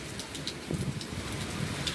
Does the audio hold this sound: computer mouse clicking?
no